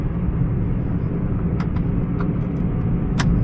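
Chevy Spark small car driving home in rush-hour traffic, a steady close cabin engine and road rumble throughout, with a few faint brief ticks and clicks over the drone.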